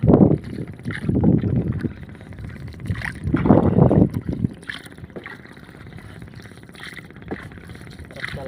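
Paddle strokes on open water from a small rowboat or kayak while out fishing, loud splashy bursts in the first half with wind buffeting the microphone, easing to quieter lapping water later.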